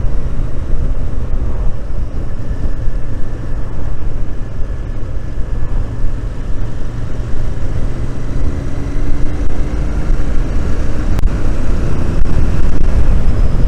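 A Royal Enfield Interceptor 650 parallel-twin motorcycle hums along during a city tour ride. The steady engine drone sits under constant wind rush, loud and unbroken, with no talking over it.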